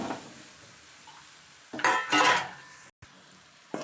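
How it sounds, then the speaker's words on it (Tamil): Soy chunks are stirred in a cooking pan with a utensil, giving soft scraping and a couple of louder clattering bursts over a low background hiss, close by. "சோயா ஆட் பண்ணியிருக்கோம் இதை அப்படியே நல்லா பரட்டி விட்டுக்கிடுவோம்"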